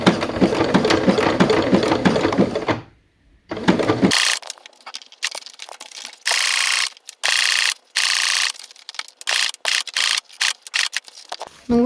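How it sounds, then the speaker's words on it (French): A sewing machine runs a zigzag seam over elastic while a flat kitchen cap is being sewn. Fast mechanical stitching comes in bursts of varying length, separated by short silent pauses, close and clear. "Et donc il va falloir faire une couture sur l'élastique."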